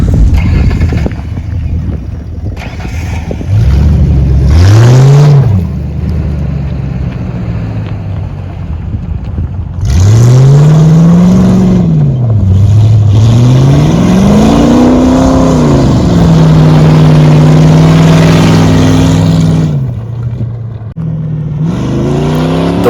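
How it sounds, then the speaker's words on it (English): A lifted Crown Victoria with a glass pack exhaust revs hard in two bursts, its deep engine note rising and falling with throttle blips and a sustained rumbling pull, loud and close with some wind buffeting. "One of my favorite things about the car is the glass pack exhaust. Listen to how good this bad boy sounds."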